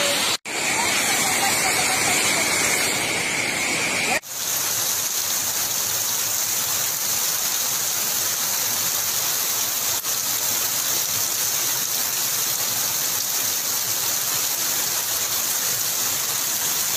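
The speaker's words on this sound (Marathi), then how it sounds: "दोन घंट्यात पाणी नदीला पूर महापूर." A flooded Papnashi river in Beed district swollen by heavy rain rushes with a loud, continuous broadband roar, steady and close throughout after a brief different burst at the start.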